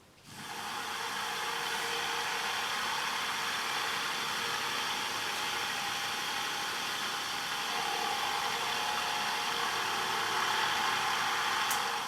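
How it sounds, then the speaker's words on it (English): A washing machine universal motor runs slowly on a 12-volt lead acid battery, far below its rated voltage, giving a steady, even whirring hum with faint high whine that holds unchanged throughout. "first to use a 12-volt lead acid battery to power the universal motor, and let's take a brief look at that"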